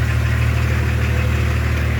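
A BMW E36 2.5 TDS diesel engine running at a steady idle, with a continuous low, even rumble and faint vibration throughout, close and loud with no talking.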